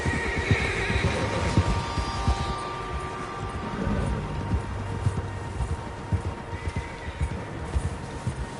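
Several horses in the game Red Dead Redemption 2 neigh and whinny near a lake camp, with clip-clopping hooves and soft wind in a continuous outdoor ambience, the calls rising over the steady hoof rhythm.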